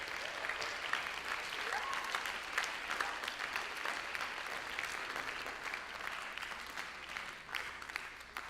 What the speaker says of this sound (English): Can we give her a round of applause also?